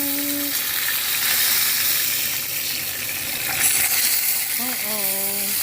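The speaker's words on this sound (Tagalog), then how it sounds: "mainit yung mantika. Prituhin natin." Eggplant slices frying in hot oil for spicy eggplant, giving a steady, loud, close sizzle with bubbling crackle throughout and a few faint tonal clinks.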